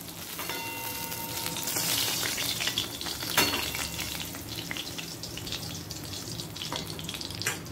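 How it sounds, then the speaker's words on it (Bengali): Pieces of rui fish fry in oil in a pan, a steady crackling sizzle with stirring clinks and a sharp metallic knock partway through. "মাছগুলো লাল করে ভাজা হয়ে গেছে।"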